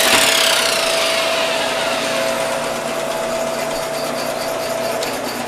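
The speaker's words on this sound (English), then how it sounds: "Most of the noise you're hearing is from the equipment and not the motors." Laboratory test equipment running alongside an induction motor, a loud, steady mechanical whine and hum with a constant tone and broad hiss, continuous and unchanging throughout.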